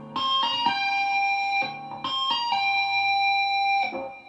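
Bright, sustained electric guitar notes with quick legato changes, two repeating phrases of tapped and pulled-off notes, distorted and continuous with no talking.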